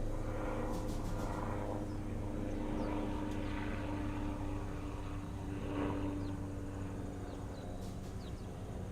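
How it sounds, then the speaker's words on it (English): A helicopter drones steadily overhead, its low engine and rotor hum continuous and fairly loud throughout, with no voices. "I hear a helicopter."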